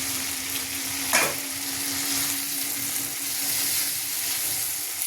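Fried potatoes sautéed in a pan sizzle steadily and loudly, a continuous bright crackle with a single sharp scrape of stirring near the start.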